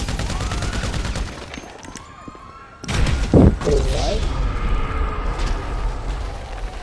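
Gunfire bursts in GTA V Online gameplay mix with game explosions and thuds, loud and cluttered, while players talk over the action.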